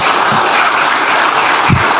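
A crowd at a political speech claps steadily, a dense and continuous wash of hand claps with a few louder thumps among them.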